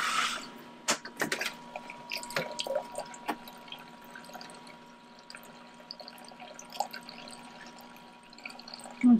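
Water rinsing through an autoclave during maintenance, flushing sediment out: a low steady hum with faint trickling and scattered drips, plus a few sharp clicks and knocks, fairly quiet and without voices.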